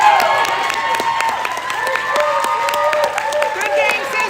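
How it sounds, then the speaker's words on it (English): Crowd applause and scattered cheers fill a hockey rink after a youth bantam championship game, steady clapping from many hands holding at moderate loudness throughout with a few shouts mixed in. "Applause for a great championship game"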